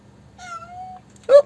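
A feral cat on a mountain gives a drawn-out meow, then a shorter, louder one right after, close by over a low steady background hum.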